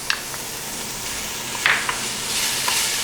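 Garlic sizzling in a pan while being stirred, a dense, bright frying hiss with occasional spoon scrapes and small pops, close and steady, no voices.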